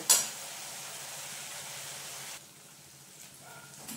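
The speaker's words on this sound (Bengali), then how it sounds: "এই যে আমার মশলা ভাজা সুন্দর তেল ছেড়ে দিয়েছে" Spice paste frying in oil in a pan gives a soft, steady sizzle after a brief sharp hiss at the start, then fades to a quieter crackle.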